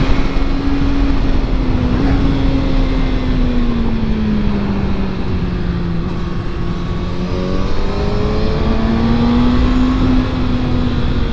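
Riding a 2020 Kawasaki ZX6R motorcycle, its engine a loud, steady, close drone with the pitch slowly rising and falling through the ride, under heavy wind rush and with no talk.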